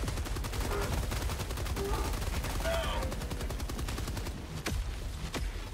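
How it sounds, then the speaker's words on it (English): Sustained rapid machine gun fire in a shooter video game, a loud continuous rattle of bursts that thins into a few separate shots near the end, with game voice lines heard under the gunfire. "The machine gun shoots everything."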